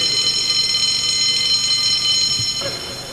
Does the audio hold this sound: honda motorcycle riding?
no